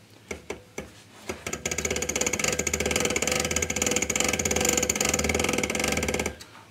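A small DC motor, wired to give rectified output, spun steadily by hand, giving a loud, continuous mechanical whirr with rapid ticking texture, preceded by a few separate knocks as the spin starts and cutting off abruptly at the end.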